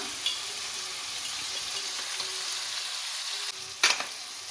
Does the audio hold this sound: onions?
yes